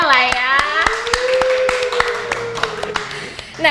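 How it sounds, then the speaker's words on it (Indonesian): A group of people clap hands in a quick, uneven rhythm at a podcast taping, with a voice talking over the applause near the end. "tepuk tangan dulu boleh lah ya."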